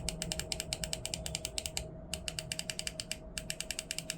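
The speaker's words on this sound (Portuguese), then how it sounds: "Aqui em cima também ficam os botões LB e RB. Eles têm um clique bem gostoso e passam uma sensação boa na hora de apertar." The LB and RB shoulder buttons on an 8BitDo Ultimate 2 controller are clicked rapidly and repeatedly, giving crisp, close, evenly spaced plastic clicks in quick runs with brief pauses between them.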